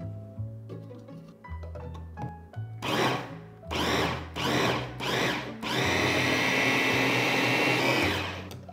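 A food processor grinds shrimp with white pepper, cooking wine, salt and garlic into a paste. Soft humming gives way to four short, loud motor pulses, then a long continuous whirring run that cuts off near the end.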